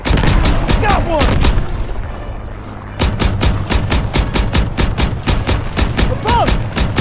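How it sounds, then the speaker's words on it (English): A Stuka dive bomber attacks a position in the World War II shooter Call of Duty WW2, with loud, rapid, repeated gunshots and heavy booming explosions throughout, and soldiers shouting over the din. "Stuka's attacking our position! It's going down!"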